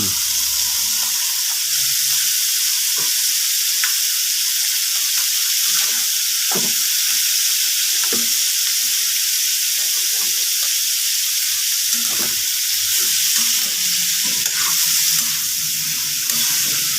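Beef frying in a pan gives a steady, loud sizzle and hiss throughout, with occasional scraping and small pops from stirring close by.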